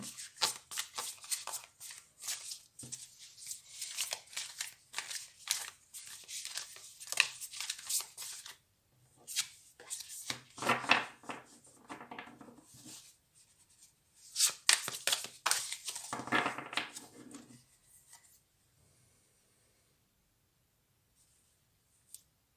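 Light Years Tarot cards are shuffled close up in quick bursts of riffling and soft flicking slaps, with short pauses between runs before the sound stops near the end.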